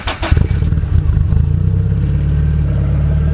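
A built Nissan 240SX's 2.4-liter KA24DET engine, bored 20 over, revs hard and close, a sharp throttle blip giving way to a steady, deep, beefy rumble that holds loud through the rest of the stretch.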